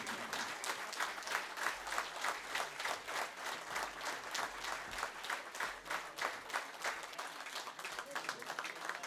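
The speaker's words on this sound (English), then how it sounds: "A big round of applause to them." Sustained applause from a crowd at a national conference of company secretaries, dense clapping that rises and falls slightly in waves, continuing steadily for the whole stretch.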